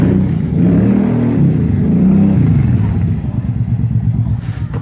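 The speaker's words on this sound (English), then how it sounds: "sorry about that noise. They're trying to do some quads" Quad bikes rev nearby with rising and falling engine buzz and some clatter, loud at first and then easing into a rougher, fluctuating throttle near the end.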